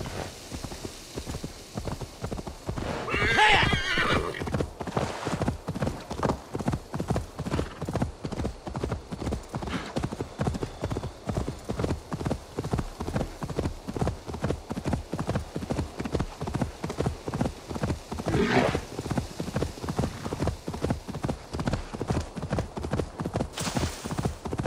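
A horse is ridden at a steady trot in the Assassin's Creed Valhalla video game, its hooves clip-clopping evenly and continuously over a soft ambient bed, with brief swells of other game sound.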